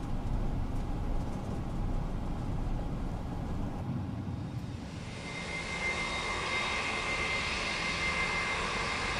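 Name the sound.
Airbus A321 engines, FSLabs add-on in MSFS 2024 video game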